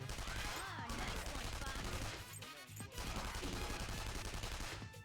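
Rapid bursts of gunfire in the game Persona 5 Royal crackle loudly and densely over the whole stretch, with a brief lull near the middle, set against a busy music backdrop.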